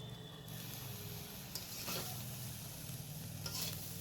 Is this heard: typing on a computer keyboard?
no